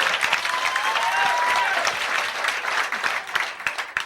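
Audience clapping at a live comedy talk show, a dense, full burst of applause that stays strong for several seconds before breaking into scattered claps, with a faint whistle near the start.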